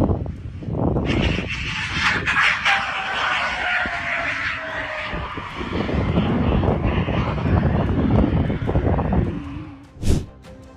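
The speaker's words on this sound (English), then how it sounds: "Plane landed without landing gear." A fixed-wing airplane making a belly landing with its landing gear up, engine roaring loudly and then sweeping lower in pitch as it passes, with a sharp scraping burst near the end.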